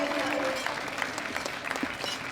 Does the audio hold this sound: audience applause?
yes